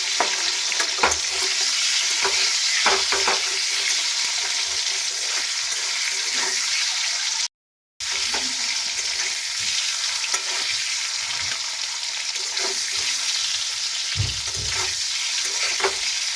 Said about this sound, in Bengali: খুব হালকা করে ডিমটা ভাজবো